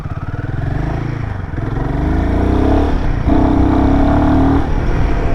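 A Royal Enfield Himalayan 450 motorcycle ridden on the road, its single-cylinder engine thrumming close and loud, with a steady revving climb and a brief shift midway before settling into a strong, even drone.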